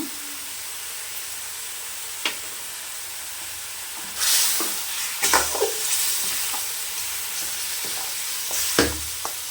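Mutton frying in a pan with salt and turmeric, stirred in bursts of scraping and rising sizzle over a steady low hiss, loud and close with no talking.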